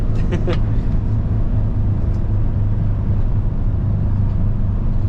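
Busy road traffic around a truck heading through downtown New Orleans, a constant loud rumble of engines and tyres heard from inside the cab.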